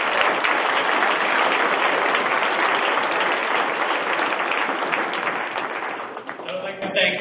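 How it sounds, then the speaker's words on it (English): Audience applause at a school orchestra concert, loud, dense clapping from a large crowd sustained throughout before thinning toward the end, with a voice coming in at the close. "So give her a huge round of applause."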